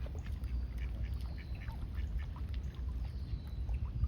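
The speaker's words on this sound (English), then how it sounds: "These ducks are all mallards." Mallard ducks quack faintly and now and then at a Toronto park during a summer heat wave, mostly buried under steady, rushing background noise.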